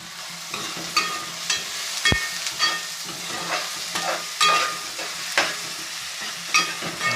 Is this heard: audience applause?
no